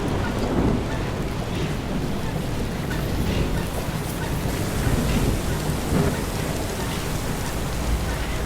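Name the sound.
thunderstorm with rain in video game Far: Changing Tides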